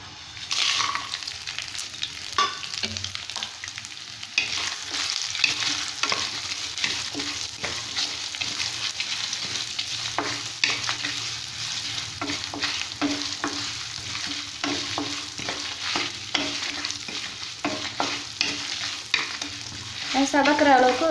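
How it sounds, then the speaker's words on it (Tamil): Spices roasting in hot oil in a pan for an ivy gourd tamarind gravy, a steady close sizzle and crackle with frequent stirring scrapes over about twenty seconds, no talk. "இப்போ வறுக்கிறதுக்கு சொன்னது எல்லாத்தையுமே இதில் போட்டு வறுத்துக்கலாம்."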